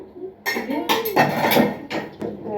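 A spoon scrapes and clinks against a pot while cooked rice is served at home, giving a few bright metallic taps and scrapes. A voice is heard briefly.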